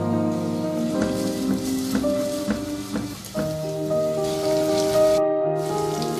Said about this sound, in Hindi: सबसे पहले ये प्याज इसमें डालेंगे और इसको हल्का सुनहरा सा फ्राई कर लेंगे